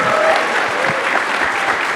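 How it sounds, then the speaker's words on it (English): Audience applause at the close of a talk featuring John McWhorter and Glenn Loury, dense sustained clapping from a large crowd, loud and steady throughout. "So please keep clapping for John McWhorter and Loury."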